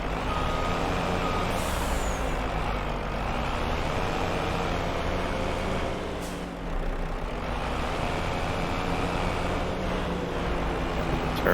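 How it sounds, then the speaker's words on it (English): A truck reverses in the video game Farming Simulator 25, its backup beeper sounding steadily and loudly over a constant engine rumble, with a brief hiss of an air brake. "Turn the truck."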